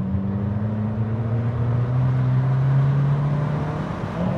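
A 2021 Abarth 595 Competizione on its stock exhaust, with the engine holding a steady, loud drone and only a slight swell in pitch and intensity rather than sharp revs.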